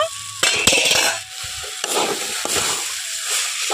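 A pan of chickpeas and greens (kalmi and pui leaves) sizzles and fries while a spoon stirs and scrapes, with intermittent metallic clinks and bursts of hissing steam at close range.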